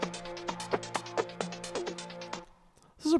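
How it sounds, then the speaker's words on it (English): A synthesizer built from a detuned four-voice unison sine wave plays a quick sequence of bright plucked notes in a bouncy rhythm for about two seconds, then falls quiet before a brief sound returns at the end. "We started with a detuned 4 unison sine wave here."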